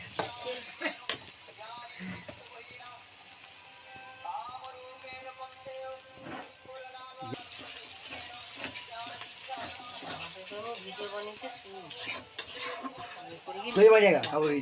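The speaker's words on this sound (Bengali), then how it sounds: "আদা বাটা দিয়ে দিয়েছে রসুন বাটা দিয়ে দিয়েছে এবার আর কি কি দেবে তার ভগবান জানে সেটা আমি বলতে পারবো না এখন নাড়ছে" A spoon scraping and stirring chicken gravy with ginger and garlic paste in a pan, soft intermittent clinks with faint sizzling, under a person talking nearby.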